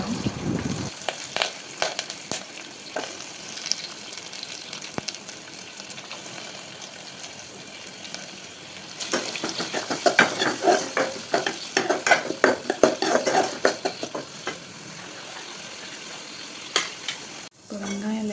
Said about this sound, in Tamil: இப்போ வெங்காயம் லைட்டாக வதங்கிடுச்சு.